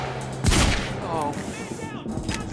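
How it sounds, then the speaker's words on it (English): A loud heavy pistol shot cracks out in Quantum Break, followed by scattered further gunfire under a voice. "Fucking 3 shots from the heavy pistol right in the penis and he survived all that?"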